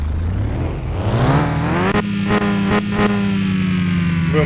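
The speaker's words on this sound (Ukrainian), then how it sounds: "Мощно звучить, звісно, ця машиночка." A Volvo 240GL engine in Car Mechanic Simulator 2021 revs up from idle, climbing steadily in pitch, then holds a loud, close, high drone with a few brief throttle stutters.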